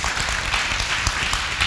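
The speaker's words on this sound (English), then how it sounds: "give them a round of applause" A church congregation at a child dedication and communion service claps in a short burst of even applause, steady and fairly close, with no clear talk.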